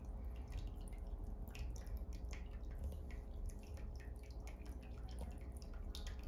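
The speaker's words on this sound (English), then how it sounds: "I'm gonna add just a little more vinegar so that distant cone is gonna be fully submerged." Vinegar poured over sea shells in a container to submerge a cone shell, giving a steady near stream of splashing drips and liquid patter throughout, with no speech.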